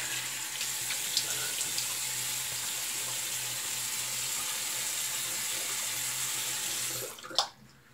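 Water runs steadily from a sink tap to rinse a GEM Bullet Tip safety razor, a continuous close hiss that cuts off abruptly near the end with a small clunk.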